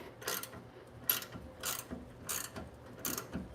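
A hand ratchet with a 21mm socket backs off a rear shock bolt on a Chevy Silverado 2500 HD in a garage, giving five or six evenly spaced bursts of close, crisp clicking with quiet pauses between strokes.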